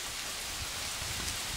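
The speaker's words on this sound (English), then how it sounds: "Tropical rain." Tropical rain falls steadily in a broad, even hiss of drops on surfaces, with no voices over it.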